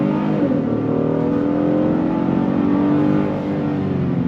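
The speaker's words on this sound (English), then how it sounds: "You can hear that V6 doing its thing." V6 engine of a 2026 Honda Passport RTL SUV pulling hard under throttle off-road, a loud, steady rising drone heard from inside without talk.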